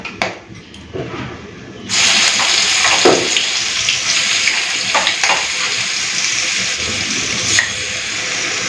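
Ground spice paste hits hot oil tempered with cinnamon, cardamom and cloves for a vegetarian potol curry, and a quiet background jumps into a loud, steady close sizzle with occasional stirring scrapes.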